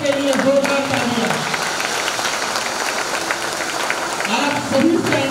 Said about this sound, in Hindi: मिस्टर अजय मेश्राम सर के लिए जोरदार तालियां।